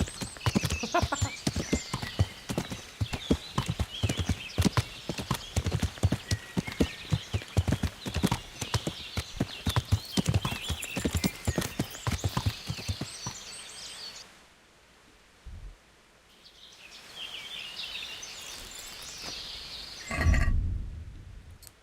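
A horse in Kingdom Come: Deliverance clip-clops rapidly at a gallop for over ten seconds, close and loud, then slows and stops, followed by a whinny and snort near the end.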